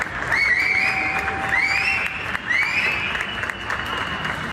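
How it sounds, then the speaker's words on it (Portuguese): Applause rises from Chileans clapping at their apartment windows at night for frontline doctors, a diffuse, distant-sounding clatter of hands mixed with whistles and scattered shouts. "À noite, chilenos se uniram nas janelas para aplaudir os médicos que estão atuando na linha de frente"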